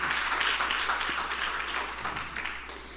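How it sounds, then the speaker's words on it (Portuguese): A church congregation applauds steadily during a service, a dense and continuous wash of many hands clapping that fills the room and fades slightly toward the end. "Vamos dar uma salva de palmas para Jesus, pela vida dos nossos filhos."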